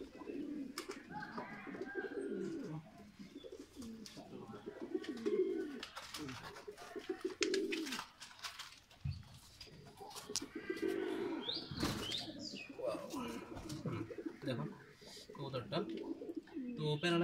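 A pet pigeon coos close by in repeated low throaty phrases, with a brief wing flutter and a person talking over parts of it.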